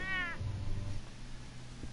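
A cat in the Batman Telltale video game gives one short, close meow at the start, followed by faint low background rumble.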